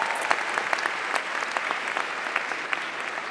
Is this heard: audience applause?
yes